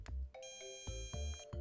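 A dog shock collar's beeping mode: a series of electronic tones sounds in a steady pattern, each note ringing briefly, with several pulses over under two seconds, fairly quiet.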